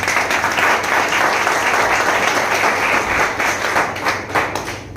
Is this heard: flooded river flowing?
no